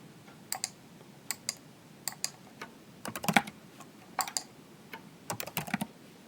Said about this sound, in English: I'm typing, but it's not responding.